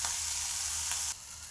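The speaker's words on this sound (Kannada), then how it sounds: "ಟೊಮೊಟೊ ಹಣ್ಣು ಸಹ ಸ್ವಲ್ಪ ಎಣ್ಣೆ ಒಳಗಡೆ ಫ್ರೈ ಆಗಬೇಕು." Chopped tomatoes frying in oil in a pan for tomato sambar make a close, even sizzle that drops off abruptly near the end; no voices.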